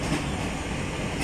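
A double-unit Class 377 electric train rumbles steadily through London Bridge station, a loud, continuous rolling roar of wheels and carriages heard close without talk.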